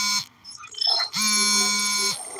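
A phone rings with an electronic alarm-like tone, loud and close: a sustained ring, a brief gap with some muffled sound, then the ring resumes and holds steadily.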